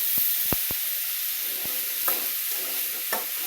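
Green chillies sizzle steadily in a hot pan, a continuous bright frying hiss with a few sharp spoon-against-pan knocks scattered through, close and fairly loud with no voices.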